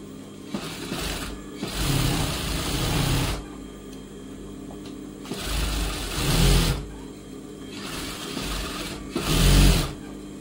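A sewing machine runs in close, loud bursts while stitching along the lining and main fabric at a blouse neck. Quieter gaps separate the runs and nobody talks.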